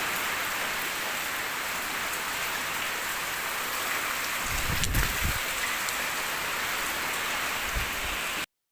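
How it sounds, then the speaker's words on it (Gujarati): Steady light drizzle patters continuously on surfaces in a Gujarat village, a soft even hiss with a faint low rumble midway and no voices. "આ બાજુ ઝરમર ઝરમર કહેવાય કે વરસાદ ચાલુ છે"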